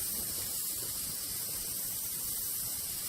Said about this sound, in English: I'm going to spray right along this line of his cheek right there.